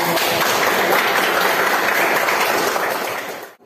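Students in a classroom applaud after a group presentation, a brief, lively burst of clapping close to the microphone that fades sharply at the end.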